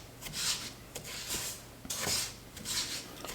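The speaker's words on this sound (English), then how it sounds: "you just got to keep at it and keep making sure that you're stirring things" A spoon scrapes and rubs through a thick peanut brittle mixture in a pot, rhythmic raspy strokes repeating about once a second, close and moderately loud with no talk.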